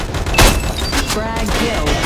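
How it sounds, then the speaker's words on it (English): Grenade explosion in the Metro Conflict shooter game: a loud thumping blast early on, followed by dense crackling gunfire and game noise. "Grenade!"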